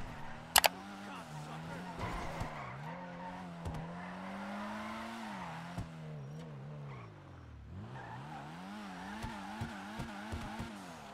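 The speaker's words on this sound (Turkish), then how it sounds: "Ama araba güzel bir drift arabası gerçekten." A drift car in GTA Online runs fast with a steady engine drone that rises and falls with the revs, plus brief tire noise and clicks, under a voice talking throughout.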